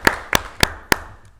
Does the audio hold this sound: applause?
yes